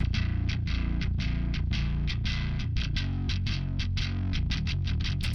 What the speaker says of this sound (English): this is what the bass tone sounds like by itself